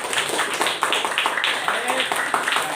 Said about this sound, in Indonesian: sekali lagi tepuk tangan untuk kelompok 2